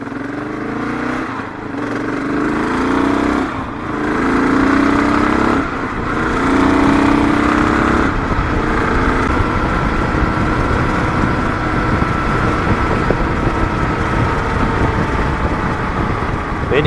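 A Kawasaki KLR 685 dual-sport motorcycle, fitted with a windshield and ammo cans for deliveries, revs up in several pulls and then settles into a steady drone with wind rush while it rides along.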